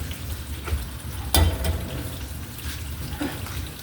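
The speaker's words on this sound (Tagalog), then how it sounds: "So yun po, kumukulo-kulo na mga kabisnes." A pot bubbles and sizzles steadily nearby, a soft continuous hiss with a few sharper pops.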